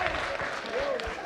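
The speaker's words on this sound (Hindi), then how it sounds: "एक बार कुंवारे अपने सम्मान में जोरदार ताली बजाकर बताए कि कौन कौन कुंवारा है।" Audience applause at a Hindi kavi sammelan poetry gathering, with unmarried men in the crowd clapping loudly in their own honour; brief, dense clapping mixed with voices and crowd noise.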